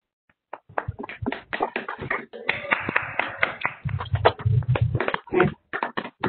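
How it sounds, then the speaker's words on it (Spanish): An online audience claps into their microphones, producing uneven, scattered hand claps and taps from several participants that overlap and come through compressed over several seconds. "Les pido activar su micrófono para darle un fuerte aplauso para ella"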